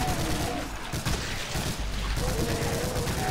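Rapid, continuous chain gun fire in the Brutal Doom shooter game, a dense rattling burst that runs loud and unbroken throughout, with other game sounds mixed in.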